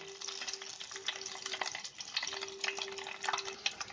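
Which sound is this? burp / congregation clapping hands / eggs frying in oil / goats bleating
eggs frying in oil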